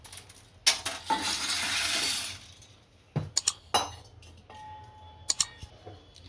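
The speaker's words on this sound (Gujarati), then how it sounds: "આમાં આપણે પાસ્તા નાખી દઈશું" Dry pasta tipped into a pot of water on a gas stove: a long rustling, sliding rush, then a few sharp clinks and taps of metal utensils against the pot.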